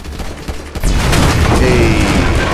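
Burst of gunfire and a loud explosion from a shot gas can in the video game GTA 5, a sharp boom followed by rapid shots and rumbling debris, with a voice speaking over it.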